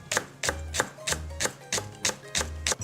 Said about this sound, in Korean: 대파 한 대를 송송 썰어 준비해 주세요